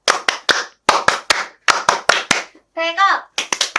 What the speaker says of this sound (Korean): 박수 치고 끝내죠